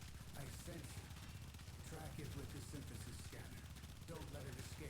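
Dual Toxocyst pistols firing full auto in the Warframe video game: a faint, steady, rapid stream of gunshots running through the whole stretch, blended with other game audio.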